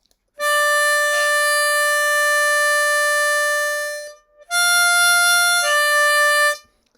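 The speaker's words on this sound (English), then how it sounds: "Single note sounds a bit like this." A Hohner Special 20 ten-hole blues harp in C plays clean single draw notes: one bright reedy tone held for about four seconds, then a second, slightly different note sustained for two more, close and steady.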